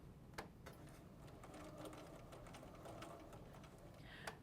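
A sewing machine with a quarter-inch foot stitches quilt block fabric for a double wedding ring block, running as a faint, steady hum marked by light rhythmic ticks.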